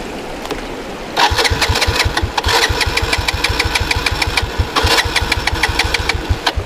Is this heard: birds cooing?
no